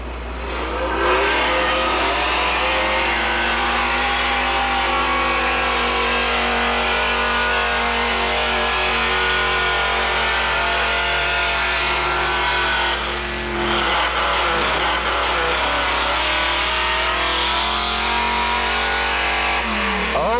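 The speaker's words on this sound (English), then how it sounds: "Fine pulling truck out of Holton, Maine." Old Ford pulling truck from Holton, Maine, built by the McAtee boys, roars loud and steady at a truck and tractor pull, its engine revving hard under load, dipping briefly midway before climbing again.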